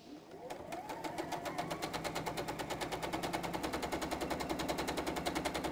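A home sewing machine stitches a T-shirt tote bag, starting up then settling into a loud, fast, even rattling rhythm close by, running without pause for several seconds.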